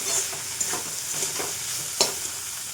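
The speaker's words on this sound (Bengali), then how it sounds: "আদাটাকে একটু ভেজে নেব আগে।" Ginger frying in oil in a pan makes a close, steady sizzle with a few soft stirring scrapes and one sharper clink, without any talking.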